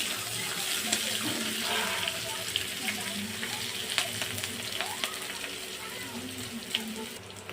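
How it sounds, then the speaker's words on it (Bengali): Chopped onions fry in a pan for a bhetki fish curry, with a steady close sizzle broken by scattered stirring clicks and scrapes of the spoon throughout. "পেঁয়াজ কুচি দিয়ে ভালো করে একটু ভেজে নেব পেঁয়াজগুলোকে"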